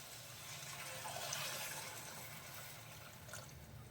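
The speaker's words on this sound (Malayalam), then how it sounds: "ഇനി നമ്മൾ ഇതിലേക്ക് ഒരല്പം ചൂടുവെള്ളം ഒഴിച്ചു കൊടുക്കാം" Hot water is poured into a pan of Kerala-style dry shrimp theeyal curry, making a continuous close splashing, gurgling pour with a slight swell partway through.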